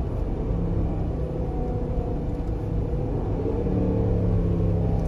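A Dodge Durango R/T with a HEMI V8 engine revving on a downshift, heard from inside as a loud, continuous low rumble that rises slightly in pitch toward the end.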